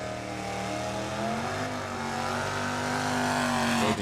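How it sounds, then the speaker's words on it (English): A 1970 Dodge Challenger launches at a drag strip, its engine note rising in a loud, sustained roar that climbs in pitch over about four seconds. "David Coons, 70 Challenger"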